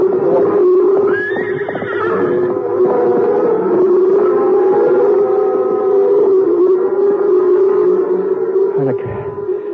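Horses neighing and whinnying loudly over a continuous rumbling stampede of cattle in a Western radio drama, with long wavering calls layered near and close throughout.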